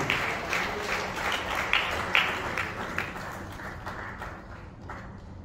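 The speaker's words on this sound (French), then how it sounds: "J'aimerais que nous puissions l'applaudir chaleureusement pour l'encourager." An audience applauds warmly at an evening gathering, with distinct claps standing out in a continuous patter that gradually thins and fades toward the end.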